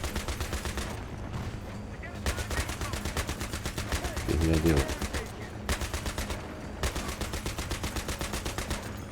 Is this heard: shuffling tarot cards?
no